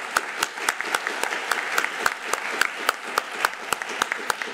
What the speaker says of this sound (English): If you'd give them a big hand of applause.